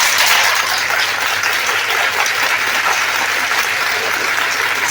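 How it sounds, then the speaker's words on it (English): A hall full of teachers at an empowerment talk claps hard and fast, a loud, continuous wash of many hands sustained evenly from start to finish with no voices over it. "With full energy. Clap!"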